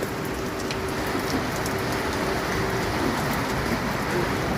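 Rain drums steadily on a tin sheet roof in Madurai, a dense, even patter that stays loud and constant throughout, with no voices.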